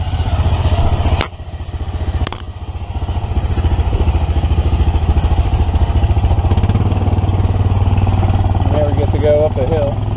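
A 1982 EZ-GO three-wheeler with a 420cc Predator engine drives with a steady, loud, close low thrum. It pulls at a constant pace, dips briefly twice early on, and a voice is faintly heard near the end.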